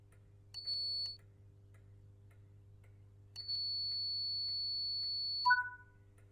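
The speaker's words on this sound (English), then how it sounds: "giving you 2 audible beeps from the NHA guard compartment" In a train simulator, two steady electronic beeps from a Class 87 locomotive's guard compartment, a short one then a long sustained tone, followed by a brief two-note chirp, over a low constant hum.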